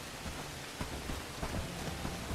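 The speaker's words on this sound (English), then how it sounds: "I love the rain in Bellwright." Soft, steady rainfall patters continuously in the video game Bellwright, with scattered droplet taps and a low rumble beneath, no voices.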